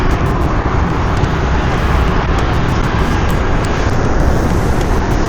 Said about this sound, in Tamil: இங்கே டிராஃபிக் இருக்குது.